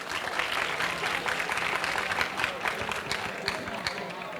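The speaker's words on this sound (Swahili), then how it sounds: "Tuwapigie makofi mengi sana" Steady applause from an audience at a public ceremony congratulating the Dar City team, dense continuous clapping filling the whole stretch at even strength, with crowd voices mixed underneath.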